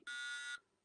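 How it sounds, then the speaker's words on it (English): A single long electronic beep, steady and buzzy, lasting about half a second before cutting off into quiet. "one long low beep"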